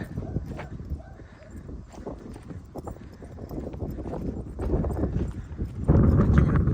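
Hooves of a Belgian Brabant draft mare clip-clop in a steady walking rhythm, close by, with a louder rumble of movement toward the end.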